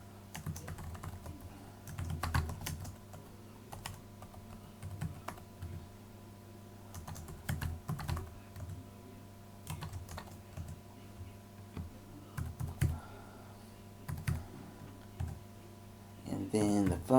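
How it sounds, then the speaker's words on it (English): Keystrokes on a computer keyboard while entering records into an Access 2019 database form, coming in irregular bursts of quick clicks separated by short pauses, fairly close and moderately loud. "You're just typing these in."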